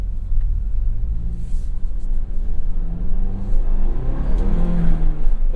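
A 2023 Ford Bronco Heritage with a seven-speed manual gearbox and locked rear differential accelerates hard, its turbocharged engine building a steady, loud rumbling drone with rising pitch that runs throughout.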